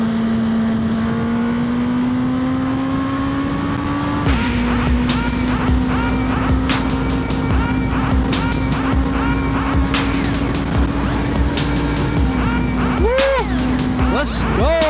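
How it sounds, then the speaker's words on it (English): Steady drone of passing car traffic around a motorbike on the road, with a sustained engine tone, brief swells and a tire-like squeal near the end, loud and continuous throughout. "There's too many cars."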